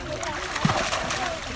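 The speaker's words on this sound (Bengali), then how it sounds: "পানি মনে হচ্ছে তারা ভেঙে ফেলছে, বিকট শব্দ হচ্ছে দেখছেন" Water splashing and sloshing in a pond as large fish are hauled in with a net, a short splash standing out over steady background noise and distant voices.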